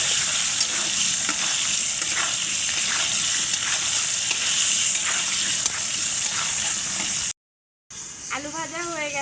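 Potatoes fry in a pan with turmeric and salt, a steady loud sizzle with scraping stirs throughout, then a brief cut and a voice speaking over renewed sizzling.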